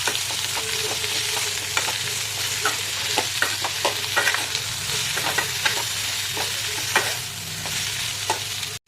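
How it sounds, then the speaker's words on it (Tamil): Ivy gourd stir-fries in oil with mustard seeds, curry leaves, salt and turmeric for kovakkai poriyal, a constant close sizzle broken by frequent scraping stirs and spoon taps against the pan. "நல்லா மிக்ஸ் பண்ணி அப்படியே வேக வைங்க."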